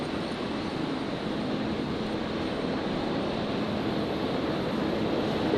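A Qantas Link Dash 8 400 turboprop touches down at Brisbane airport, a steady, moderately loud broadband engine roar rolling on without pause and no voices over it.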